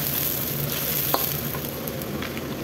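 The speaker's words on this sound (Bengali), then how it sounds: "তেল গরম হয়ে গেছে, মশলা দিয়ে দেবো।" Spices sizzle loudly in hot oil in a pan at the start of a chicken curry. The crackling and frying is dense and steady, close up, with a faint clink partway through.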